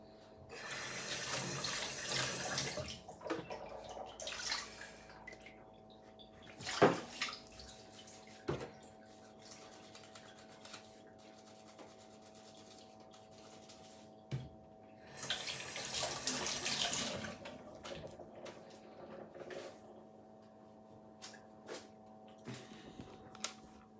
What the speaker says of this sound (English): Wash a teaspoon.